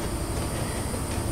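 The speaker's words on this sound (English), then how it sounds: "We are in a choo-choo train and we are going places." Brief stretch of a train running in Train Simulator 2014 on the London to Reading line, a steady dense rumble of wheels and rail noise, loud and continuous.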